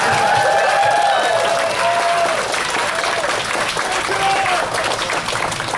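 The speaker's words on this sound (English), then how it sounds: "Applause." An audience at the AnthrOhio convention opening ceremony applauds in a dense, sustained burst of clapping. A few whoops and cheers rise over it, and the applause thins slightly toward the end.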